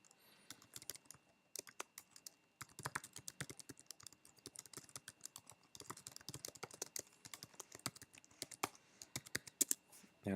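Rapid, uneven clacking of code being typed on a computer keyboard, close and fairly quiet, with short pauses between bursts of keystrokes and no talking.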